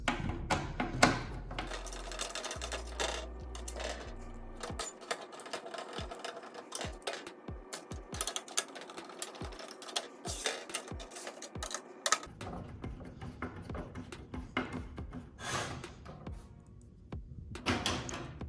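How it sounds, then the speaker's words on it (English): A driver seats T15 screws into a gauge cluster mount for a 1994–1997 S10, with a buzzing whir near the start followed by a run of small sharp clicks and taps, close and fairly quiet. "You'll be putting in these 4 T15 screws that you took out earlier in the process."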